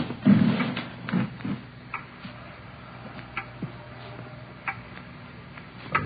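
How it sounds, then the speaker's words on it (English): A loud clock ticks in a steady, even rhythm across a quiet room, the sharp ticks clear and close with little else around them. "It's a loud clock, ain't it?"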